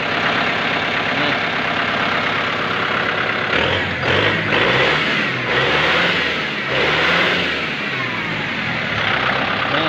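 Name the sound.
Kubota M6040 tractor engine revving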